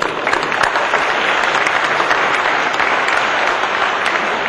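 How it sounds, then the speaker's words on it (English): Steady, loud audience applause at a Holocaust Day of Remembrance event, dense clapping from a full room sustained evenly for several seconds with no talking over it. "Round of applause."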